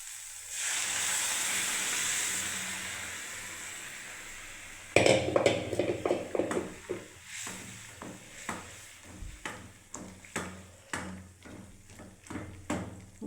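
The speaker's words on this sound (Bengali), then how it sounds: "তো আমি এবারে মটরটাকে আমি ঢেলে দিচ্ছি বন্ধুরা" Boiled peas for ghugni tipped into hot spiced oil: a steady hiss, then a sudden loud burst of sizzling with repeated sharp clinks and scrapes of a utensil stirring in the pan, close by and with no talking.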